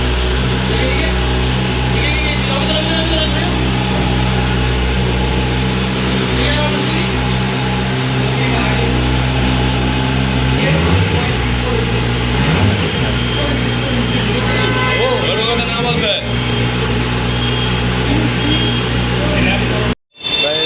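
A Kawasaki ZX-10R 1000cc motorcycle idles close by with a steady, loud rumble and a few brief throttle blips, while people talk over it outdoors.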